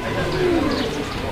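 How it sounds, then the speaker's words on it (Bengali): A pair of Lahori pigeons coos once nearby, a soft, low, rolling call that rises slightly and then fades. "এটা হচ্ছে লাহোরি, অ্যান্ড এটা টয় লাহোরি কবুতর একটা জোড়া"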